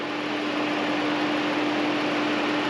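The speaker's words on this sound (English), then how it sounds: "you may not hear me very well because of the engine running" A Ram Promaster engine runs during a 62TE transmission service, giving a steady, even mechanical hum with a constant low drone, heard alone at moderate level.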